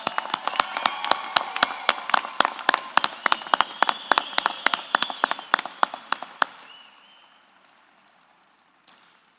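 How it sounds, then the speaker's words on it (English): A convocation crowd honouring graduating student athletes at Arizona Athletics claps in sharp, dense bursts that stay loud for several seconds, then fade out quickly, leaving near silence with a single late clap. "let's give all our student athlete graduates a big round of applause"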